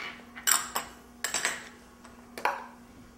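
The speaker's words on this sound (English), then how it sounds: "And we'll just keep whisking this" Whisk clinking against a bowl while sugar, soy sauce and sake are beaten into a savory Japanese steamed custard mixture; several separate sharp clinks and scrapes, close and fairly quiet.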